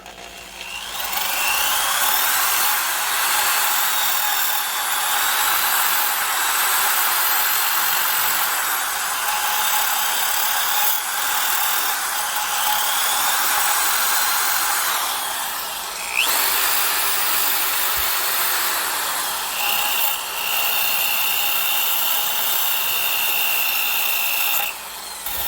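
A variable speed drill spins a Harbor Freight Warrior nylon abrasive clean up wheel in a steady, continuous high whine, close and loud, with slight pitch shifts as the speed changes, and no talking.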